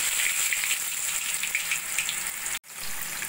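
Diced potato cubes fry in hot oil in a wok, seasoned with cardamom and cloves, giving a steady close hiss and sizzle with crackling, broken by a momentary gap near the end.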